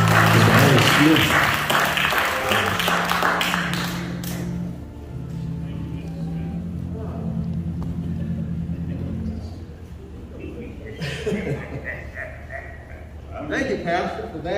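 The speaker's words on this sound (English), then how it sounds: "Clap your hands for Brother Smith." In church, the congregation claps for a brother called up to speak. Dense clapping, mixed with voices and music, fills the first few seconds, then it thins into quieter room sound and talk, with a few claps returning late.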